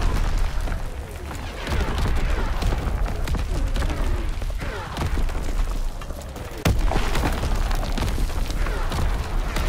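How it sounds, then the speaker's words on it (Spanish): An artillery battery fires in a World War II shooter game, with repeated heavy booms and explosions rolling over each other, loud and dense throughout, with sharp bursts and faint game voices in the mix. "Disparando la primera batería."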